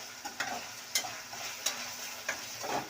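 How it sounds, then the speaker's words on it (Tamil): Masalas sautéing lightly in a pan for chilli chicken, a soft steady sizzle with a few spoon taps against the pan at irregular intervals. "லைட்டாக என்ன பண்ணுங்கள், மசாலாஸ் நல்லா லைட்டாக சாட்டே பண்ணுங்கள்."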